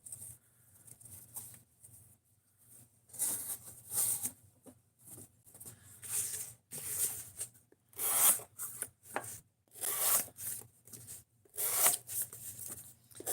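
Intermittent rasping strokes of a Rex 121 steel knife edge being reprofiled on a sharpener, coming in irregular scraping bursts with short pauses between, close and fairly quiet.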